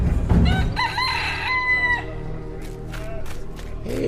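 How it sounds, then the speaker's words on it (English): A rooster crows loudly as a sound effect in a radio play of the Good Friday story, one long drawn-out cock-a-doodle-doo followed by softer clucking and background noise. "it's only a rooster's morning call"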